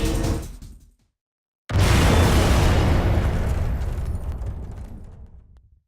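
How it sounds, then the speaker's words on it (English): A massive explosion erupts in a Jak 2 cutscene on PS4, bursting in suddenly after a moment of silence and rolling on as a loud, broad roar that slowly fades. "A well-worthy explosion"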